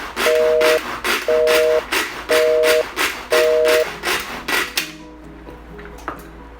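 A small manual vegetable chopper with its blade tucked into the lid chops vegetables finely: five quick, loud, even strikes of clattering impact, then a quieter, scattered tail of rattles.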